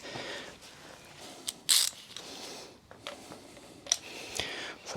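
A hand wrench clicks and ratchets in short bursts while a Wilbers Nivomat shock is fitted to a Harley-Davidson Softail Sport Glide, with faint creaks and metallic ticks between the turns, fairly quiet and close.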